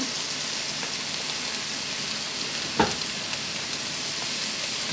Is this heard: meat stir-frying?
yes